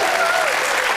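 Studio audience applause on a radio panel game show, a brief, dense burst of clapping heard up close.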